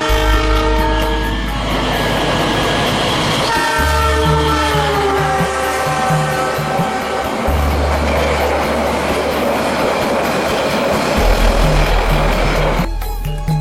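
Sancaka passenger train rolling past close by, its loud horn blaring in several long sustained blasts over a steady roar and rumble of wheels on rail.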